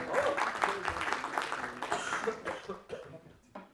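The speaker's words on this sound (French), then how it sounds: "Et on peut applaudir." An audience at an agile conference talk claps briefly in a loose, uneven burst, mixed with coughs and murmuring voices. The clapping thins out toward the end.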